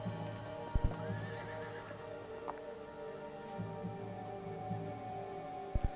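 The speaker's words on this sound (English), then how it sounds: "They heard whispers and the sound of a horse in the distance." Horse sound effect: a faint, distant whinny over a low hum, with a few soft hoof thuds at the start and end.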